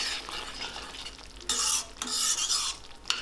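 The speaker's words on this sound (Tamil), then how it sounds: "இப்போ இதை சேர்த்துட்டு கொஞ்சம் ஆயில் பிரிகிற வரைக்கும் நல்லா வதக்கி விட்டுருங்க" Paneer gravy sautéing in oil in a pan, a steady close sizzle with bursts of scraping stir strokes at a slow uneven rhythm, loud and without talk.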